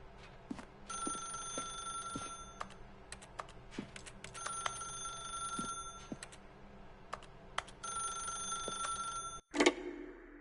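Repeated bursts of a shrill electronic telephone ring from a video game, three long ringing stretches separated by short gaps, loud and close with no talk, ending in a brief clatter.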